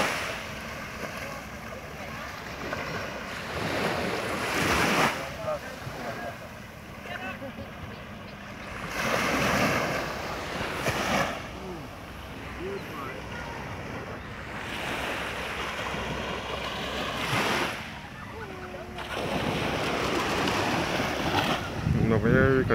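Waves wash ashore at Browns Beach on Carlisle Bay, Barbados, swelling and receding in slow surges with steady wind buffeting the microphone and a voice talking over parts of it.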